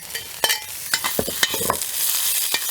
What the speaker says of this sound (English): I fry the onion, and usually I fry the white one and leave the green one